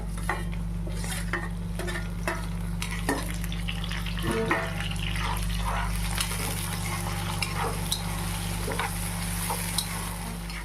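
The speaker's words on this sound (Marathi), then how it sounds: "मी कांद्याची फोडणी घालते तिखट डाळीला" Steady oil sizzle of onions frying in a pan, continuous and close, with occasional clinks and stirring scrapes.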